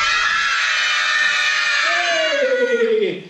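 A crowd of children in a puppet-theatre audience shouts a loud reply together for about three seconds, one drawn-out group yell fading at the end.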